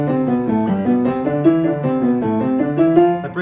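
Piano playing a Hanon warm-up exercise starting on C, a steady stepwise run of clear, evenly spaced notes climbing up the keys at moderate tempo, played alone and close.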